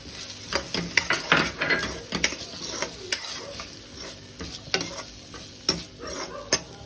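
Paneer and carrot being stir-fried in a pan, with a soft continuous sizzle under repeated scraping and clinking strokes of a spatula at an irregular rhythm, close and moderately loud, no talking.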